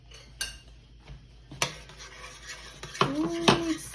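Cassava starch stirred in a pot over low flame, with scattered clinks and scrapes of a utensil against the pot, a few sharper knocks and a brief ringing tone near the end, close by and without speech.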